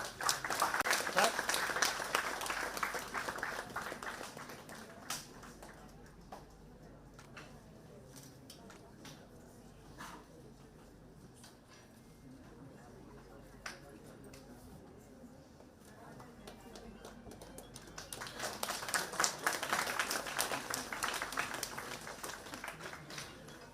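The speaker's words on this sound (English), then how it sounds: "Let's give a round of applause." A seminar audience in a chemical engineering department applauds in two rounds, a burst of clapping at the start and another near the end, with quieter speech in between.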